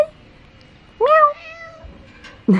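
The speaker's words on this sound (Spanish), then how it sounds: "Gatito." A cat meows twice, close and loud: a rising, drawn-out mew followed about a second later by a shorter, sharper one, against a quiet background with no talking.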